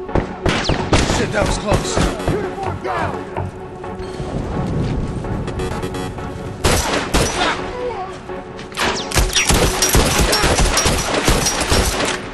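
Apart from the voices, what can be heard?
gunfire from The Last of Us Remastered video game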